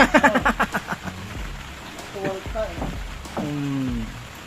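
Steady rain falls outside a home, a constant soft hiss beneath close conversational voices that talk over it throughout.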